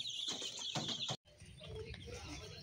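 High, thin cheeping from many young chicks fills the air, briefly cut off by a moment of silence before resuming more softly.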